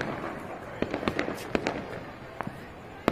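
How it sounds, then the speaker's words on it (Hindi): Scattered firework bangs and crackles pop irregularly at a moderate distance in a Delhi neighbourhood at night, some sharp and close together, over a noisy outdoor background. "ये सब लोग अपना आतिशबाजी करते हुए।"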